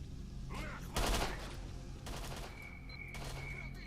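Gunfire in STALKER: Shadow of Chernobyl, a sharp loud blast followed by scattered bursts of shooting over a steady background rumble, fairly faint overall.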